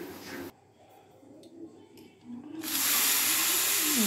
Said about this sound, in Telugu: ఆవిరి ఇంకా ఉంది ఫ్రెండ్స్. ఈ ఆవిరి పోయాక తీద్దాం.